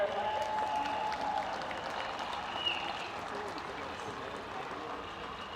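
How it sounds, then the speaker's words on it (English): Crowd applause at the Bray Emmets v Carnew Emmets senior hurling championship final celebration, a steady wash of clapping from a large outdoor gathering with some voices and whistles mixed in, holding fairly even before easing slightly. "a round of applause for everyone here"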